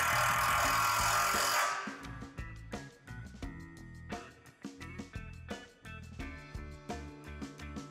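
A power driver runs briefly at a steady whine, then a self-tapping screw bites into a metal basketball pole in a series of uneven grinding, clicking bursts, close and fairly quiet.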